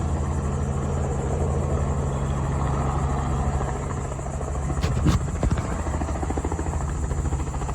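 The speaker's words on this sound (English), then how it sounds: "There's a helicopter. Oh, there it is. Look at that. It's taking off." A helicopter taking off on Ocracoke Island, its rotor thumps and engine whine holding loud and steady nearby, with a brief burst of louder clatter partway through.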